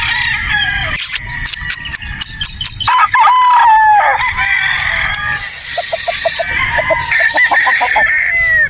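Gamefowl roosters on a game farm in Batangas, with loud close crowing from more than one bird, clucking, and busy farmyard noise around them.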